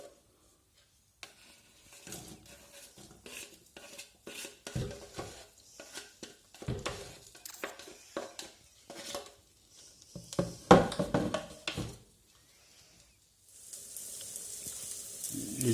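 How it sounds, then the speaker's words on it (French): Shallots browning in a little olive oil in a pan, a soft sizzle broken by scrapes and clinks of a utensil stirring against the pan, intermittent and close, with a steadier frying hiss toward the end. "je vais mettre à blondir un petit peu, dans un petit peu d'huile d'olive"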